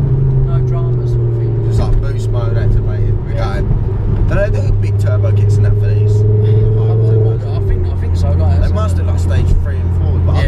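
Turbocharged car pulling hard in third gear past 4,000 rpm, a loud steady engine drone rising in pitch with close cabin rumble throughout, while people talk over it.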